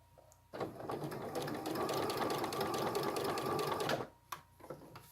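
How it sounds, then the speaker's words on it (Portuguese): A sewing machine stitches a side line on fabric in a single steady run of roughly three and a half seconds, a close, busy mechanical whir and rattle, followed by a few small clicks as it stops. "Posiciono novamente a agulha para fazer o risco lateral"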